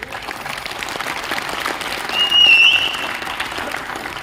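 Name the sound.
audience applause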